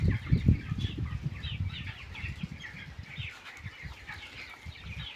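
Chickens in a 5000-bird poultry farm shed, 22 days old, clucking and cooing in a steady crowded chorus with occasional wing flaps, close by and continuous.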